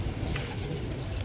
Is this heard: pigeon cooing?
yes